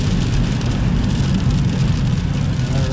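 Heavy mixed rain and snow drops pelting a car on a drive home in November, a dense continuous patter over a low steady road and engine rumble.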